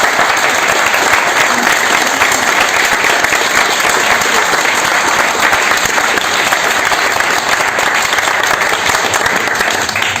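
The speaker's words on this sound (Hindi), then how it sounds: "ताली बजाओ पहले, उसके लिए फिर बताओ।" A large crowd at a business seminar breaks into loud, continuous applause, a thick, steady roar of clapping held for about ten seconds with no talk over it.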